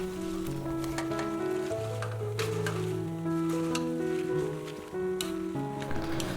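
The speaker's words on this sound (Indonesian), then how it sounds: "Masukkan semua sayur genjer yang udah kita potong-potong, kemudian aduk hingga merata" Chopped genjer vegetables are stirred through salted water at a rolling boil, giving soft bubbling and scraping stirring noises, with background music playing steadily throughout.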